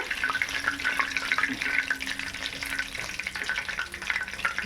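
Chicken lollipops fry in hot oil, a steady bubbling sizzle with light clinks of stirring, moderately loud and with no speech.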